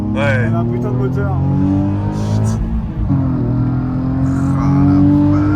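A Nissan 370Z with a full tube exhaust revs hard and loud, its engine note climbing and dipping through sustained throttle blips close to the listener, while excited voices talk over it.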